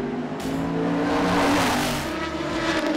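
A Toyota Gazoo LMP1 hybrid prototype race car roars loudly and steadily nearby at Le Mans 2017, its pitch rising and falling slightly as it passes, with no voices.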